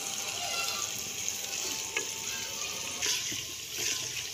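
Garlic and ginger fry in a pan with a steady, close sizzle and a few faint clinks, with no talking.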